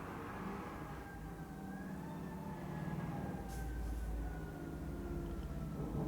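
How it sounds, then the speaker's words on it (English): A faint ambulance siren wails in the distance, its tone drifting slowly, over a low background rumble. "here comes the ambulance"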